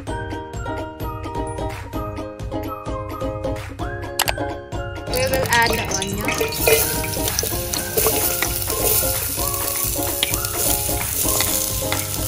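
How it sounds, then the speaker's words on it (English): Chopped onion sautéing in hot oil for an easy tuna pasta, with steady loud sizzling and frying crackle alongside clinking of a utensil stirring in the pan, close up and with no talk. "We will saute first the onion while the oil is hot."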